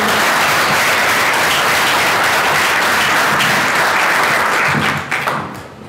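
Loud, sustained applause from the audience at a Chilean cryosphere science congress session, a dense clapping roar that stays full for several seconds before thinning out and fading near the end.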